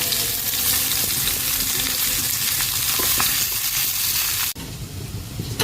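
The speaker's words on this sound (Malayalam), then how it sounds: "ഇനി ഈ ചട്ടിയിലേക്ക് തന്നെ കുറച്ചും കൂടി എണ്ണ ഒഴിച്ചു കൊടുത്ത് ഈ സവാള ഒന്ന് വാട്ടിയെടുക്കാം" Onions wilting in oil in a pan for a masala curry, giving a steady close sizzle and frying crackle with faint stirring that cuts off near the end, with no talk.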